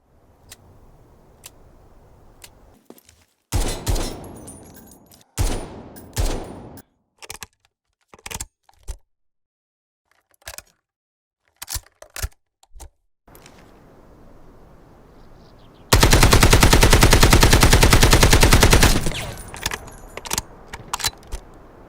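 In the shooter game Delta Force, an AKM rifle gives off scattered sharp single shots and handling clicks. These build to a loud, sustained burst of automatic fire lasting about three seconds, followed by trailing mechanical clatter.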